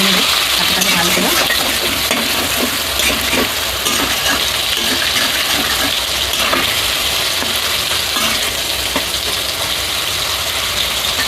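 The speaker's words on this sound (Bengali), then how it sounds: "ভেজে নেব পাস্তাটাকে ভালো করে।" Pasta frying in a pan while being stirred, a loud dense sizzle with steady scraping and clinking of the spoon throughout, close up.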